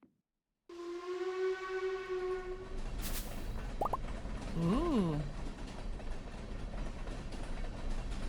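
A train in a video game sounds a long steady horn note at first, followed by rolling rumble, a sharp burst and a short rising-falling whistle, with a brief exclamation from a voice.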